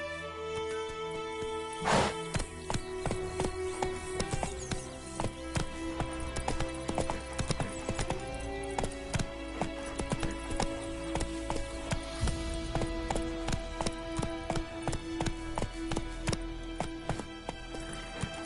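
Hooves of a ridden horse clip-clop in a steady, close rhythm throughout, with a brief faint whinny possible near the start and a dense tonal background.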